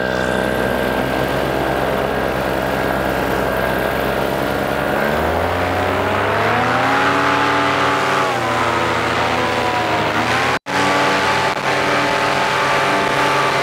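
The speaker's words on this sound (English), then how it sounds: "It's got kind of a, like a wispy sound on the edge of that prop." Four-blade boat propeller spinning under engine power: a steady, loud engine drone that rises in pitch as the boat speeds up, with a smooth, airy whir over it and a brief dropout near the end.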